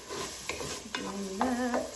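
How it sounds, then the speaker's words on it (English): Onions fry in about a tablespoon of oil for Ethiopian collard greens, giving a steady close sizzle broken by a few short stirring scrapes. "I like to put about a tablespoon of oil in here, and then I'm gonna sort of fry the onions"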